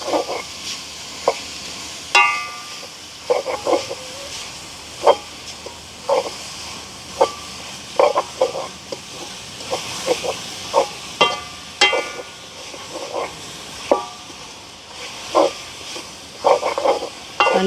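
Grated coconut being stirred into a mixture in a pan with a spoon, producing repeated scraping strokes at a steady rhythm over a faint sizzle, close and fairly loud with no talking.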